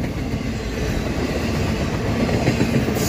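Norfolk Southern intermodal freight train passing at Shenandoah Junction on 55 mph track, a steady, loud continuous rumble of rolling railcars with rhythmic wheel clatter throughout, no voices.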